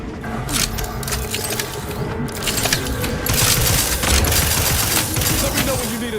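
Rapid gunfire from a paralyzing gun in The Outer Worlds 2, a loud, close burst of repeated shots with mechanical clatter, continuing steadily in a dense volley.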